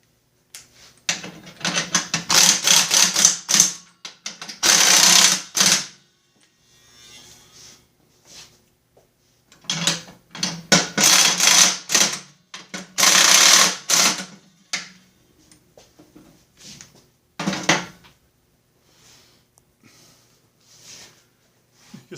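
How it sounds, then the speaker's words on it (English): Ratchet tightening self-threading triangular bolts on a Snapper rear-engine rider mower deck, fast close clicking in several separate bursts with quiet pauses between them. "we'll tighten these bolts up."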